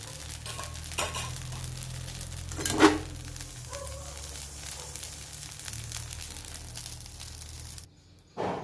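Edible gum (dink) frying and puffing in hot ghee in a pan, a steady low sizzle with crackles and a few stirring scrapes, close up and without talk.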